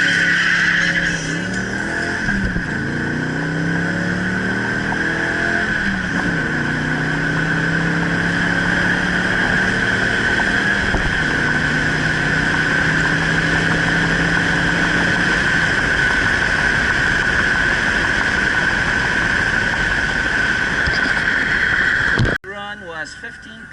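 A Ford Mustang Saleen sits on the line at a Thursday night drag racing event, its engine holding a loud, sustained roar with rising and falling revs while the rear tires are warmed up. The sound cuts off abruptly near the end.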